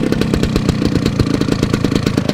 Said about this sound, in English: Listen to the idle. Classic two-stroke.